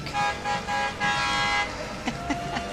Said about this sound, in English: You can hear him honking.